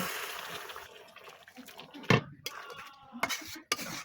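Broth poured into a pan of river prawns cooking for a dopiaza, a liquid splash under clinks of a utensil against the pot, with several sharp knocks and scrapes near the end, close and moderately quiet.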